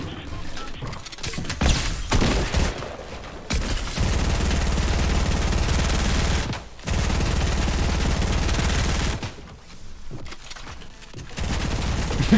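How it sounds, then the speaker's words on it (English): Two P90 guns fire a continuous unlimited-ammo barrage in the Fortnite video game, dense rapid gunfire sustained for several seconds at a time with short pauses between bursts. "try using two P90s like so. It's an unlimited barrage of shots."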